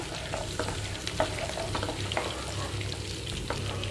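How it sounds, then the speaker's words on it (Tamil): Finely chopped green chillies fry in hot oil for a Chettinad-style elephant yam mash, producing a constant close sizzle with sharp popping crackles and no talking. "பச்சை மிளகாய் வந்து நல்லா ஃப்ரை ஆகணும் ஆயிலில்."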